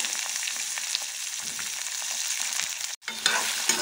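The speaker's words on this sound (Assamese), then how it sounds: "এতিয়া পিঁয়াজখিনি আধা সিজা হৈ গৈছে আৰু এতিয়া মই ইয়াতে দিম এয়া তিয়াই থোৱা বুটকেইটা।" Soaked chickpeas fry with half-cooked onions in a pan, giving a steady close sizzle that briefly cuts out and then resumes, with no talking.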